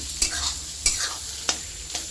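Food sizzles in hot oil while a utensil stirs and scrapes the pan four times in a slow, even rhythm.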